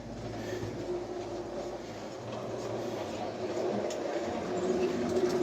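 A model railway train with two motors and a red trolley runs along the track, giving a continuous close rumbling and whirring drone that grows slightly louder as it goes, with faint voices in the background.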